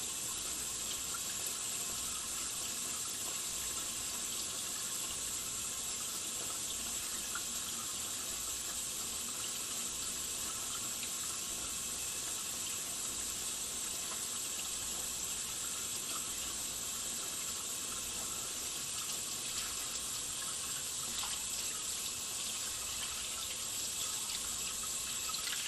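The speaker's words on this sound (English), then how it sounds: "Work up a soap lather for at least 20 seconds and rinse your hands very well." A faucet runs steadily into a sink during handwashing, a continuous, loud hiss of flowing water that does not change for the whole stretch, with no talking.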